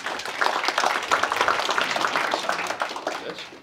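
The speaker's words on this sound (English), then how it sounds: "So give a round of applause for one and only Rohan Nair" An audience at a JavaScript tech talk applauds a speaker, a dense, steady wash of many hands clapping at once that fills the room, then thins and fades toward the end with little talking over it.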